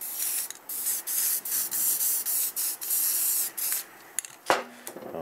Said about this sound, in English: Let's see if it even sprays.